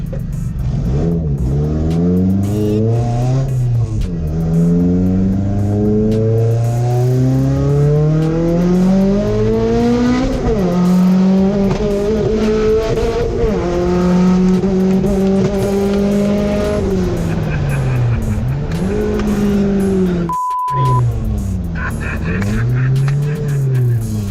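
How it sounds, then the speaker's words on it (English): A 1975 Datsun 280Z fitted with a turbo is driven hard, its engine loud and close as it revs up through the gears again and again, dropping pitch at each shift, with a brief break near the end. "It's got a turbo in it, so when the turbo spools up, it just throws you back in the seat."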